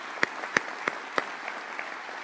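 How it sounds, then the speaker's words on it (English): Sparse applause for a sheriff's office honor guard at a county cabinet meeting: a handful of distinct, separated claps from a small group, fading quickly. "Let's give them a round of applause as well"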